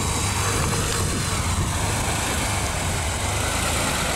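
A car engine idles steadily and close by, a continuous low rumble with no pauses or revving and no voices.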